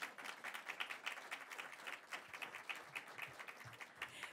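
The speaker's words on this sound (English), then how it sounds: "You can applaud him right now" Faint, distant applause from an audience for Senator Rob Portman at a bipartisan leadership prize ceremony, a patter of many clapping hands rising and falling slightly throughout.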